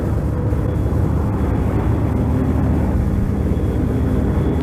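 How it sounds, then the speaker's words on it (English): A bomber aircraft banking away at high speed gives a steady, loud, broad engine roar that holds at the same level throughout, with no voices. "The aircraft banks away at high speed."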